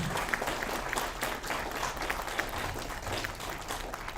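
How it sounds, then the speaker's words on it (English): Audience applause at EtonHouse International School's Year 13 graduation ceremony, a steady, dense wash of many hands clapping that holds evenly throughout without talk. "A round of applause to all of you at EtonHouse"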